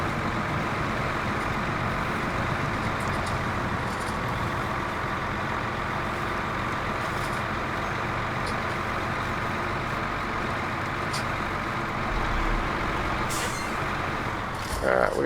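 Truck in a video game with a steady low engine drone, close and continuous, joined by faint air-brake hiss and brief ticking near the end; a voice speaks over it.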